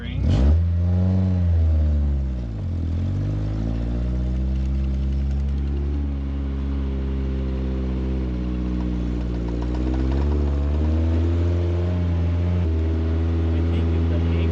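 Suzuki Samurai engine revving while driven in four-wheel drive high range through a snowstorm, a steady loud drone that rises and falls in pitch with throttle changes, with people talking over it.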